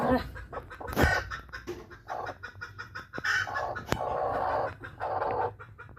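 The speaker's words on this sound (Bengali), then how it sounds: "ডিম পারলো মুরগি" A hen clucks repeatedly at close range after laying an egg, in short uneven bursts among other farmyard noises and a few sharp knocks.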